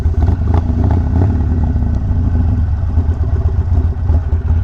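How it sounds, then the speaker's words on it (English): A Harley-Davidson Sportster with an Evo engine idling and running close by, a loud, steady low-pitched rumble with an uneven, lumpy pulse. "the Evo engine in the Sportster has the best sound"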